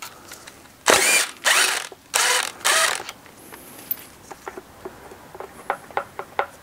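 A timing belt tensioner is released on a Honda J35 engine: four loud, harsh mechanical bursts of about half a second each, followed by a run of scattered light clicks and taps, with no talking.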